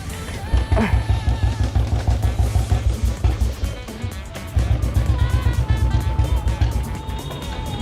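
Royal Enfield Bullet motorcycle with a carburettor fault idling in a steady low thump, its engine note dipping and faltering midway as it cuts out under throttle before picking back up, with a voice speaking briefly.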